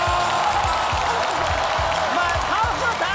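A theatre audience at a live acrobatics act in a Shijiazhuang variety show gives dense, steady applause with cheering, and a voice calls out over the clapping.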